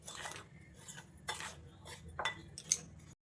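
Flour is stirred into a batter in a bowl for soft cup pitha, heard as several short bursts of a utensil scraping and clinking against the bowl, fairly close and quiet, ending abruptly in silence.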